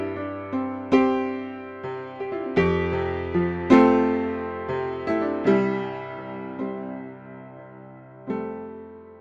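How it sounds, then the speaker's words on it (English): Free 99 Sounds upright piano software instrument playing a slow, sparse passage of struck chords and single notes, each attack ringing and decaying under sustain, moderately loud and close, with no voices. "Upright piano sounds like this."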